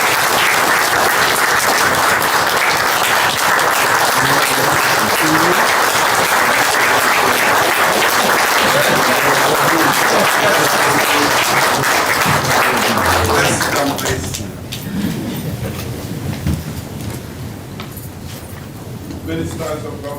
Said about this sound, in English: A round of applause for His Excellency the President.